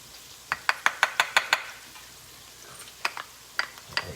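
Garlic sautéing in a pan with leeks, onions and bacon, with a quick run of sharp utensil knocks and scrapes against the pan, then a few more scattered taps over a faint sizzle.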